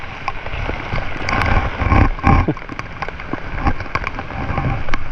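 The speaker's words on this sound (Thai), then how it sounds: "ไฟแรกก็เจอฝนเลยครับ" Rain falls during a night fishing trip with frog bait as a storm arrives. A constant patter and hiss is broken by scattered louder drops and taps on nearby surfaces, with faint low rumbling underneath.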